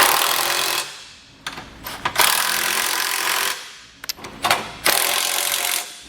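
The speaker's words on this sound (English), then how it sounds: "we can come back with a socket and tighten everything down" A socket tool tightens trailer hitch receiver bolts under a 2008 Honda Odyssey in several loud, noisy bursts separated by short pauses and clunks, close by and without talk.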